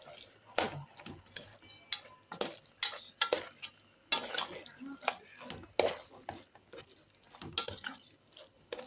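Pasta is stirred through sauce in a pan: repeated close scraping strokes of a utensil against the pan in an uneven rhythm, over a soft sizzle with occasional light clinks.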